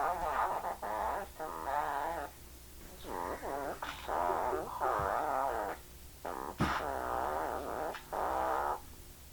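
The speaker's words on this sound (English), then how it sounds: "This is Miss Wonderful. I got her at a thrift store. She's supposed to say exactly what men want to hear, and it sounds like this" A thrift-store Miss Wonderful talking doll toy speaks in a tinny, buzzy electronic voice, several choppy phrases with short gaps, close and fairly loud with a low hum underneath.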